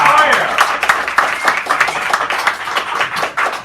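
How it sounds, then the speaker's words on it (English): Scattered applause from a small audience at a café poetry hour, greeting a poetry teacher with uneven claps close by and voices chattering over it throughout. "just give her a nice round of applause right now"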